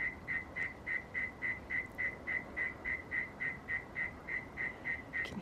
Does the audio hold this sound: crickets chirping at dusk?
yes